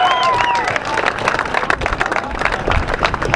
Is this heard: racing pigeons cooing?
no